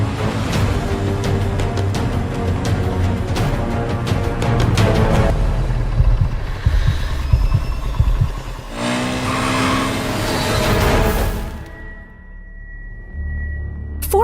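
A car chase in an audio drama, with engines revving and roaring past loudly amid rattling impacts and whooshes, then a final burst of acceleration before the noise cuts to quiet.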